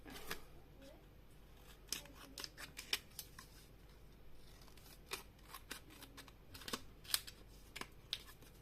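Scissors snip paper for a photo album, a quiet series of short, irregular cuts close by with faint talk in the background.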